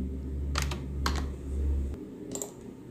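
Keystrokes on a computer keyboard while text is entered into AutoCAD, a few short clustered taps in two bursts over a low steady hum, moderately close.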